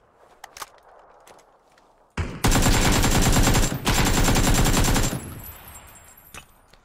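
Gunfire in the video game PUBG: a loud, close burst of rapid automatic shots runs for about three seconds with a brief break, preceded by a few scattered footsteps and clicks.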